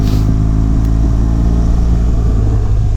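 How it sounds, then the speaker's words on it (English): A GS motorcycle engine runs steadily and loud, a continuous low rumbling drone with wind roar from riding along. "A little engine noise there."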